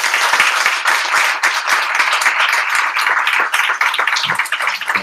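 Dense, steady applause from an audience at a LeadersUp Fair Chance Coalition convening, many hands clapping loudly and continuously for five seconds with no voices over it.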